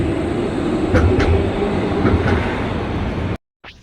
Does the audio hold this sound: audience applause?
no